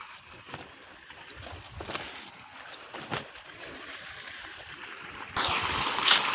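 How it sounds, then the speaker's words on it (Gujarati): Irrigation water flowing into a wheat field in rural Gujarat makes a continuous outdoor rushing and trickling, with a few knocks and a louder, hissier surge toward the end. "જોઈ શકો છો આપણે પાણી ચાલુ કરી નાખ્યું છે"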